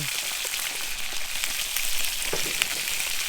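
Bacon frying in a pan, a loud continuous close sizzle and crackle with small pops throughout.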